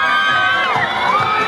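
Loud crowd cheering and shouting at a dance competition in the San Jose City Sports Complex, with high whoops and yells rising over a dense, continuous roar of many voices.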